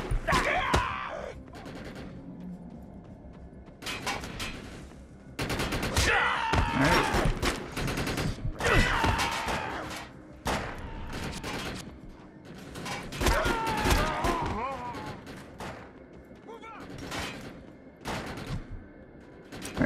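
Bursts of video-game gunfire in the online shooter Defiance, with repeated volleys of shots in clusters and pauses, fairly loud, mixed with other combat noise.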